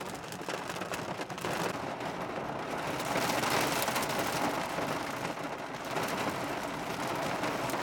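Steady rain falls and patters densely on surfaces outdoors, a continuous broad hiss at moderate level with no voices.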